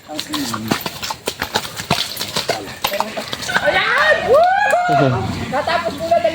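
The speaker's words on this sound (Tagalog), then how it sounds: "Ito yung bagong kabayo nyo lang dito." A horse in Quezon used for hauling walks with steady clip-clopping hooves, the knocks clear and close, while people talk and another animal's whinny-like calls rise late in the clip.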